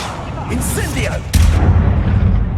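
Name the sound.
Incendio fire spell being cast in video game Hogwarts Legacy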